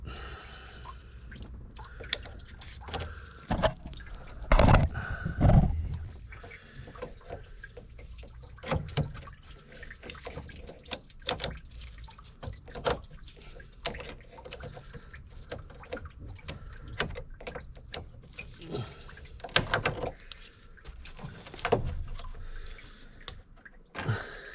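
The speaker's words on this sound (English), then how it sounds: "Pretty much most of the water's out it now" Water drains from the radiator of a Vauxhall Omega 3.2 Elite, heard as irregular drips and trickles with a brief louder splash near the start. No one speaks over it.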